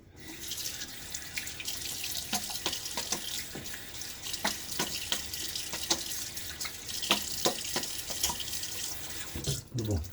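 A bathroom tap runs steadily for a rinse during a wet shave, its close, even water flow dotted with scattered splashes and clicks, ending with a brief knock.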